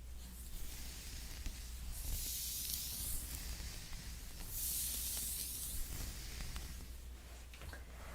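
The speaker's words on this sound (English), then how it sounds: "I'm just gonna spray a little bit of my moisturizing detangler" Two soft hissing sprays of moisturizing hair detangler mist out close up, each lasting about a second, over a quiet hushed background.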